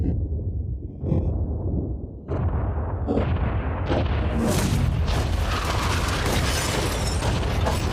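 A yacht is blown up in a video game, with a rapid string of loud booming blasts that build into a dense, continuous roar of explosions and crackling debris.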